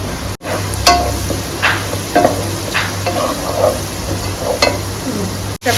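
Chopped onions and chili powder sizzle loudly in a pan close up while a utensil stirs and scrapes at intervals, with a low steady hum underneath.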